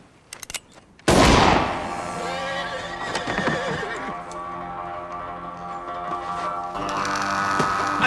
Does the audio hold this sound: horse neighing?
yes